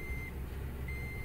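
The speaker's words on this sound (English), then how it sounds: "Sound of a pea picker." A pea picker machine gives off an intermittent high-pitched beep, two tones separated by a pause, over a steady low engine rumble in the distance.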